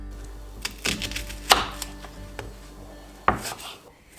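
A knife slices through a halved onion on a wooden board, giving a few sharp, irregular close chops and thuds spaced apart, with faint scraping in between.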